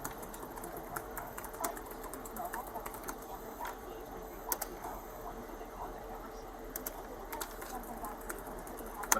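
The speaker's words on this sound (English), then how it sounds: "you're typing." Light, irregular keyboard typing clicks run steadily in a quiet room, faint and close-ish, with occasional sharper taps and soft background hum.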